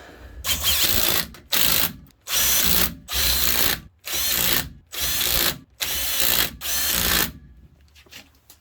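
A power ratchet spins bolts onto a Dana 70 rear axle on a 1st Gen Cummins truck, eight loud whirring bursts of roughly half a second each, separated by short pauses, close up.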